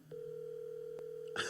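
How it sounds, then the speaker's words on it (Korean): A steady telephone tone drones during an outgoing call, one continuous low buzzing note held for over a second before a brief burst of other sound at the end. "전화 시도 한번 해보려 합니다"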